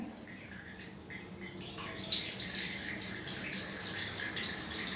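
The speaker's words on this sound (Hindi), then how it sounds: "और ठंडा पानी हमें बिना तौलिए के ही डालना है।" Cold water poured from a vessel directly over a bare knee, a continuous close splashing and gurgling flow that grows fuller after a moment, with no talk.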